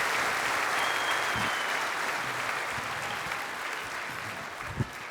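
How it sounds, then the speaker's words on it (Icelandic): Applause from a concert-hall audience at a centenary gala concert in Eldborg, a steady dense wash of clapping that holds for several seconds and slowly thins, with a few sharper claps near the end. "Gefið Fjólu Ólafsdóttur gott klapp"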